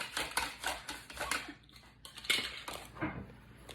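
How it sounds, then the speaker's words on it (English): Zucchini is sliced into ribbons on a mandoline in a home kitchen, a quick run of close, sharp scraping and clicking strokes with small clatters, uneven in rhythm and fairly quiet, without speech. "That was a lot of mandolining, slicing"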